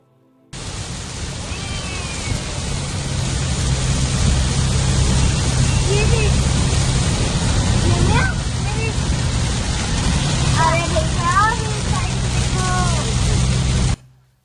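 Rain in Dubai heard from inside a car: a loud, steady broadband wash of rain and road noise fills the whole clip, with voices talking faintly over it.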